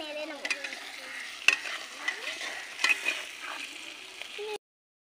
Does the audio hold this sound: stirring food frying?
yes